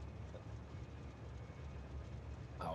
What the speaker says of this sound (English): This train needs to come forward just a tad.